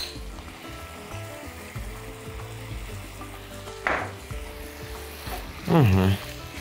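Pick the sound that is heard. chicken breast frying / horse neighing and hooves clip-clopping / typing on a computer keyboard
chicken breast frying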